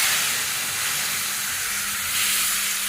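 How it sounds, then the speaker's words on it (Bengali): Spice paste of green chili, ginger, cumin and coriander frying in a pan with turmeric and salt, a loud steady close sizzling hiss throughout, no voices. "হলুদ গুঁড়ো লবণ এর কি সুন্দর করে মশলাটা বেজে নিলাম"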